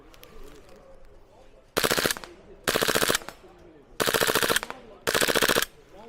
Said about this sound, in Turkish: Şimdi son şarjörümü seride atacağım.